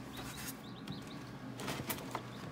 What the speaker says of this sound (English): It's day 21, and we hear chicks chirping.